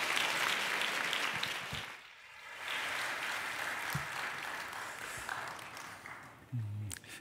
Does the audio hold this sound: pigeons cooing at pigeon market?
no